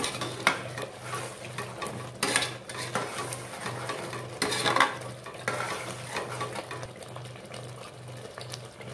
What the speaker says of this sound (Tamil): கிளறி விட்டு கொள்ளலாம்.